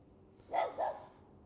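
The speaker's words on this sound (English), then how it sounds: "Outdoor prepper dog is angry." A dog barks twice in quick succession at a moderate distance, two short gruff woofs against a quiet outdoor background, with no speech.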